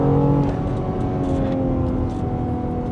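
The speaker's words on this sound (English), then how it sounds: "The engine sounds really nice." BMW X3 M or X4 M SUV engine accelerating hard from inside the cabin, a steady loud rising drone and whir under full throttle, with no talk.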